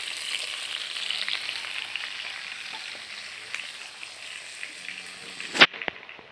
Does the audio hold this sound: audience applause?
no